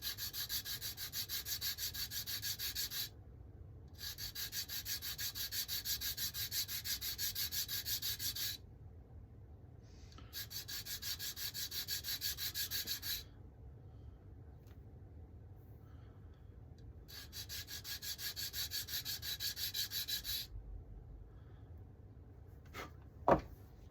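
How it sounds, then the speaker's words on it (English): Hand sanding a bevel onto a hinge part, bursts of rapid scratchy rubbing several seconds long separated by short pauses, close and fairly quiet, ending with a sharp knock and no voices. "So I'm just going to sand a bevel onto those now."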